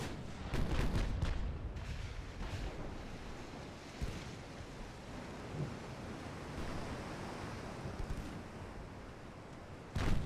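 Naval guns firing at battleships in the Ultimate Admiral warship game: a cluster of heavy booming shots at the start, then a steady roaring wash like wind and surf with occasional distant thuds, and a final loud burst at the end.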